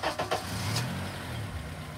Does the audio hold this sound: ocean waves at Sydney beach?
no